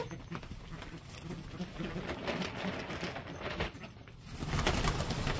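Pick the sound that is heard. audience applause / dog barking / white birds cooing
white birds cooing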